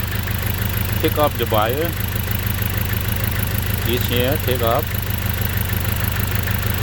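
A car engine idles steadily during an ignition coil check, a continuous low mechanical hum close by, while someone speaks over it.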